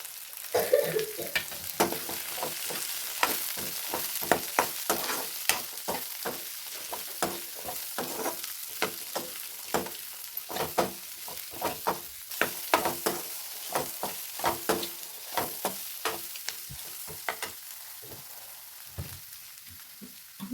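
Mixed vegetables with broccoli fry in a pan under a constant sizzle, while a spoon stirs and scrapes in quick repeated strokes, close and moderately loud throughout.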